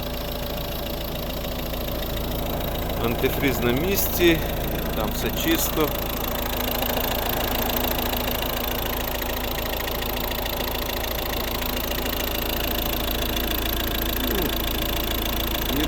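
Diesel idle from a 2012 Volvo V50 with the 1.6 HDI engine, a steady low hum under an open bonnet that runs evenly throughout while someone talks over the first part.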